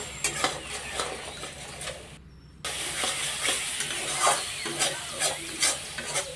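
Masala is stir-fried in a pan: a constant sizzle under busy scraping and rattling spatula strokes, close and fairly loud, with one brief drop to near silence partway through.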